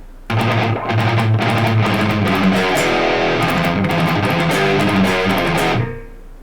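Loud, distorted electric guitar chords strum in a driving rhythm through a Nux MG30 noise gate, then cut off abruptly into silence as the gate closes.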